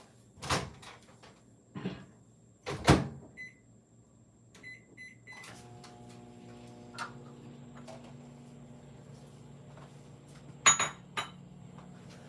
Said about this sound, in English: I'm just going to pop that in the microwave.